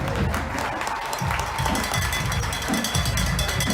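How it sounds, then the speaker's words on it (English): A crowd at a county band festival applauds a high school marching band, a dense, continuous wash of clapping with a few cheers mixed in, heard from within the stands. "How about another round of applause for the Shenango Wildcat Marching Band?"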